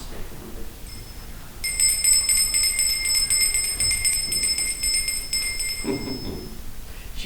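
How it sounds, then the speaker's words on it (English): A small handheld bell rings in a rapid, bright run of strikes lasting about four seconds, clear and fairly close over a quiet, faintly noisy room. "A church bell tolls several times, followed by a handheld bell rung 10 times."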